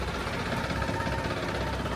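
A tractor engine runs at idle after starting, a steady, dense rumble with a faint knocking chug that stays even and loud throughout.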